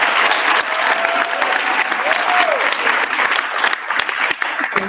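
A conference hall audience claps steadily and loudly for panelists at a national sports advocacy gathering, dense applause running unbroken with a faint tonal whistle briefly audible underneath.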